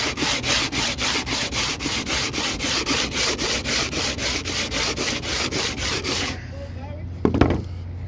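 A sanding block with 80 grit sandpaper rubs back and forth over a cured epoxy surface in steady rapid strokes, loud and close, then stops and is followed by a short knock.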